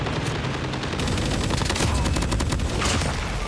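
Automatic gunfire in the mobile shooter Call of Duty Mobile, with a Kilo Mythic weapon mentioned: dense rapid bursts of shots over game ambience, continuous and fairly loud with faint background sound.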